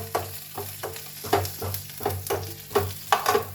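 Cumin and green chillies sizzle in hot oil in a pan, with a close, steady crackle broken by about a dozen rhythmic scraping stirs.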